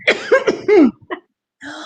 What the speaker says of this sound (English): I haven't coughed